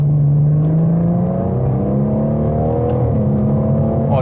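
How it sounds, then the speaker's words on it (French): A fully modified BMW M140i pulls hard under acceleration, its intake note a steady, loud drone that climbs smoothly in pitch through the gear, heard from inside the car. "le bruit que ça lâche devant, c'est l'admission"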